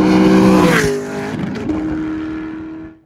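An all-motor 4.6 Mustang races, its engine revving hard and loud up close, then shifting and fading as it pulls away into the distance.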